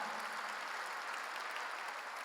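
A church congregation at a Korean worship service applauding together, a dense, steady wash of clapping that holds at an even level throughout.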